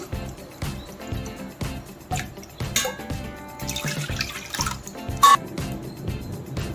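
Water poured from a vessel into a cooking pot of soaked moong dal, a steady splashing pour with intermittent gurgles and drips, fairly close and moderately loud, with no talking.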